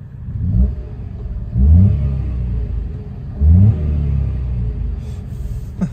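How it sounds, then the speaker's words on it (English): A 2013 Kia Picanto's small 1.0-litre three-cylinder engine idles, then revs sharply three times in quick succession, each rise falling back to a raspy idle, close and loud. "And we'll give it a quick rev."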